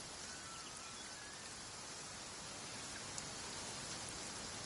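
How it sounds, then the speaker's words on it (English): Steady rain pours down in an even, soft hiss that continues unbroken throughout, moderately quiet and close, with a few faint drips standing out and no voices. "The rain won't slow me down."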